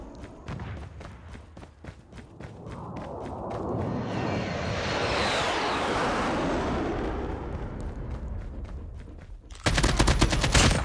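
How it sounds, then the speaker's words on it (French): Gunfire rattles through a Call of Duty Mobile battle royale match. Scattered single shots and short bursts pop over a rising, whooshing roar, then a loud rapid burst of automatic fire closes the stretch, with no speech. "Ça tire là-bas"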